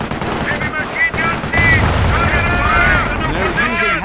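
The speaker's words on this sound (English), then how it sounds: "Heavy machine guns." Heavy machine gun fire from the Company of Heroes game played on an iPad sounds as dense, rolling bursts under a continuous battle din, while voiced unit chatter cuts in and out.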